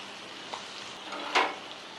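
Bitter gourd pieces coated in spice powder are stirred in a pan over a low flame, giving a soft, steady sizzle broken by two brief scraping strokes, the second louder.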